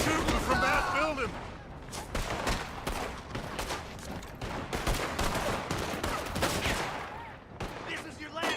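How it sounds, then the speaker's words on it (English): Rapid bursts of gunfire in a video game, echoing from a building, crackle in dense overlapping volleys over the whole stretch, with voices shouting underneath. "They're shooting from that building!"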